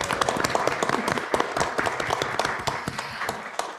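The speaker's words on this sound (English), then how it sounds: "round of applause, everybody" Scattered audience clapping at the close of a makerspace unconference session, a few seconds of distinct claps from a modest group, fairly even and moderately loud, gradually thinning out.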